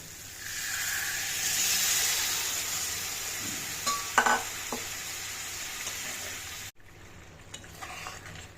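Potatoes and spices for aloo dum sizzle loudly in a pan with a broad, steady hiss and a few stirring clinks, then the hiss drops sharply when water goes in and quieter simmering follows.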